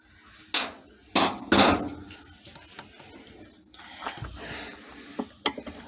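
Sharp metallic hammer blows strike the agitator clip on a Kenmore Series 500 washing machine during a drive hub repair, with three loud hits early on and lighter taps and clatter later.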